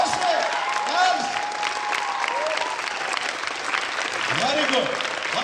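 A crowd at a cultural heritage gathering keeps up loud, continuous applause, with voices shouting and talking over the clapping throughout.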